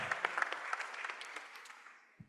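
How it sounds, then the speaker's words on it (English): A small group claps briefly, the scattered applause fading out after a couple of seconds, then a single low thump. "Yes, a hand clap."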